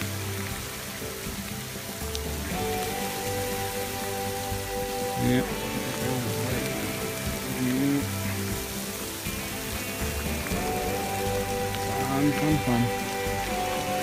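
Heavy rain and hail pelt the ground and nearby surfaces in Wyoming, a steady dense hiss with scattered harder impacts, close and continuous, while people talk briefly over it.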